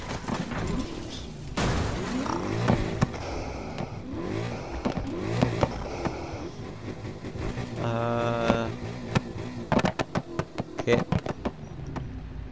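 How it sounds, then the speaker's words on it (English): A 370 hp Mustang accelerates hard in sixth gear, turbo whistling over a rising engine roar, with sharp bangs and pops near the end and a voice talking at times. "We can listen to the turbo scream."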